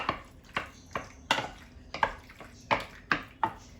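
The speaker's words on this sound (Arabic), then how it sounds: "دابا غادي نخلط هذه كلها، نخلطها بحال هكا مزيان" A spoon works macaroni through béchamel sauce in a pot, giving sharp scraping clinks at a roughly steady pace, about one stroke every half second, heard close with no talk.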